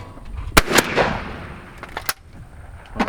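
A shotgun fires at a clay target on an outdoor quail course, with one loud, sharp close-up blast and a quick follow-up crack, then fainter distant shots echoing across the range.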